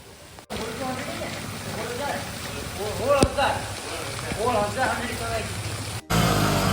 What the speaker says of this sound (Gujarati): વરસાદ આવે જો મિત્રો વરસાદ કેવો આવે કઈ ઘટે નહીં એક નંબર વરસાદ આવે